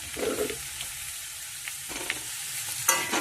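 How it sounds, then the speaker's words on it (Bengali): Sweet potato, eggplant and mixed vegetables stir-fry in hot oil in a pan, a soft steady sizzle broken by scraping stirs and a few sharper clinks of the spatula. "ভালোভাবে নেড়ে চেড়ে এটা একটু ভেজে ভাজা ভাজা করে নেবে"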